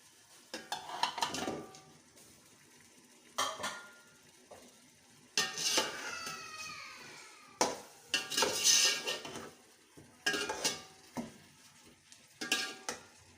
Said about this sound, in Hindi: अब इसको अच्छी तरह फ्राई करूंगी और साथ ही मैं रोस्टेड चिकन इसमें ऐड कर दूंगी